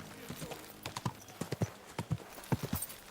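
Horse hooves clopping in Kingdom Come Deliverance II, a quick run of uneven hoofbeats close by, with people's voices cutting in around them.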